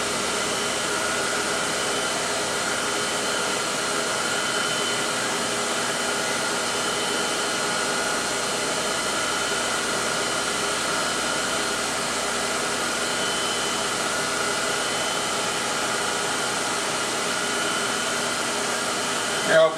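A surface grinder takes light cuts on a magnetically held workpiece, giving a steady, loud whirring roar with a high whine that holds unbroken for the whole stretch.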